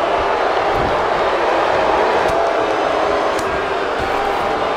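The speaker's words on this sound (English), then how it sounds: "by the sound of this crowd, I don't think he's the only one feeling that way" A wrestling arena crowd during a WWE Raw battle royal, heard as a loud, sustained roar of many voices and scattered shouts filling the whole stretch without a break.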